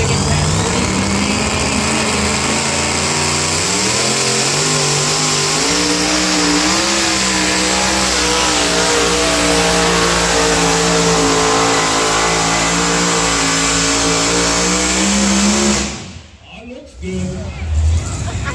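An alcohol-fueled two-wheel-drive pulling truck named Taz revs hard and loud for about fifteen seconds, its engine pitch climbing and holding steady before cutting off abruptly into quieter background noise.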